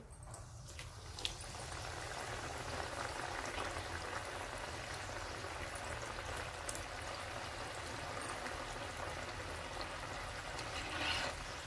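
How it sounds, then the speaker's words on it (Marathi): Shankarpale, a Diwali sweet dough snack, dropped into hot oil and frying, a continuous close bubbling hiss that rises after a quiet first second and holds steady, with no talking. "थोडे थोडे करून शंकरपाळे तेलामध्ये सोडते."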